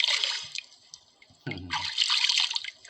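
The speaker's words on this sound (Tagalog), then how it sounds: "Awas-awas na tubig." Water overflows and splashes on a fishing outing, a gushing, dripping wash that fades briefly and then surges again, close and fairly loud, with no talk over it.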